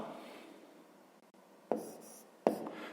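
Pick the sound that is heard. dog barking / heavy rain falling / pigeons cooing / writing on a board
writing on a board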